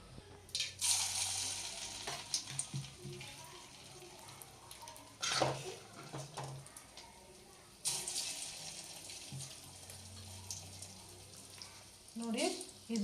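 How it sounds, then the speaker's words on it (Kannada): Chicken kebabs drop into heated oil in a home kitchen, giving a steady sizzling, crackling fry with louder bursts as each piece goes in, heard close over a background hum. "ಇದರಲ್ಲಿ ಕಬಾಬ್ ಹಾಕ್ಕೊಂಡು ಗೋಲ್ಡನ್ ಬ್ರೌನ್ ಆಗೋವರೆಗೂ ಫ್ರೈ ಮಾಡ್ಕೋಬೇಕು"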